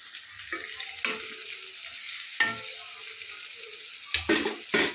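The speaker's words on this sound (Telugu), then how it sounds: "మార్చాలండి వంకాయని. చూడండి ఇలా మార్చుకోవాలి." Eggplant being stirred while it fries in a pan, a continuous hiss of sizzling oil punctuated by several distinct scraping and clanking stirs of a spatula, close up.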